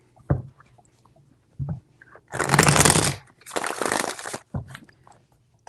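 A deck of cards is shuffled in two loud, close riffling bursts, with a few soft taps and handling sounds before and after.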